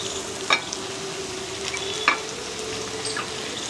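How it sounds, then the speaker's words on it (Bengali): Potato and fried pointed gourd stir-fried with spices in a pan: a steady soft sizzle broken by two distinct scraping stirs of a spatula, close and moderately loud, with no talking. "একই সঙ্গে আলু আর পটলটা আমি আরও কিছুক্ষণ কষে নেব।"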